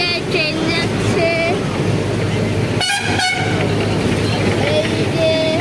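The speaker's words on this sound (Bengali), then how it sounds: "উপর দিয়ে ট্রেন যাচ্ছে।" A train rumbles across a bridge overhead in the rain while traffic flows on the road below, with sustained tooting horn tones over a loud, steady wash of noise and a sharp broadband surge midway.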